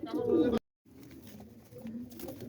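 Low, throaty pigeon cooing fills the space, pausing briefly before resuming as a steady murmur of several birds close by.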